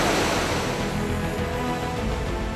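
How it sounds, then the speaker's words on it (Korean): Loud, steady roar of a rushing river in East Tibet, a continuous broadband wash of water filling the scene with no voices. "물소리 때문에 제 소리가 들리질 않아요."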